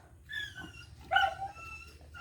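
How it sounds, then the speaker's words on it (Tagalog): Dogs at an outdoor grilled-fish meal, giving a few short yips and whimpers at moderate distance, faint over a low background hum with no talk. "Bantayan natin yung maraming aso."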